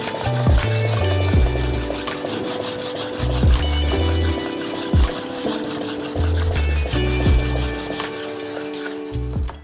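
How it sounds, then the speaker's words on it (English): A knife sharpening stone is rubbed back and forth over sandpaper on a flat surface to flatten it, a loud, close, gritty scraping in repeated strokes with short pauses between passes. "like with a sandpaper on a flat surface and just rub the stone on there"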